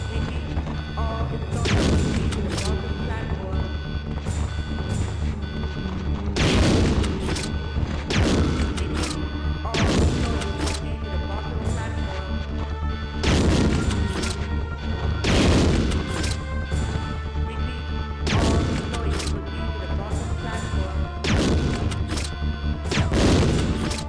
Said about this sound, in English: Unloading this many grenade rounds into a single enclosed space would surely not damage the equipment.